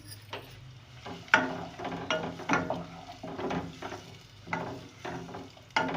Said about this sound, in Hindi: ये हमने प्याज डाल दी और साथ ही हम ये गरम मसाला भी डाल देंगे। और इन दोनों को मुझे इसके साथ ब्राउन करना है।